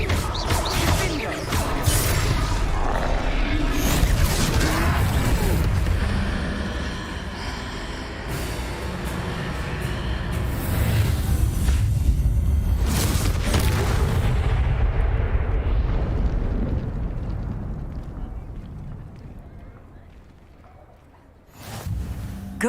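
A Confringo fire spell bursts against a troll during a Hogwarts Legacy fight, a loud sustained blast and crash over dense game action that fades toward the end before a final sharp hit.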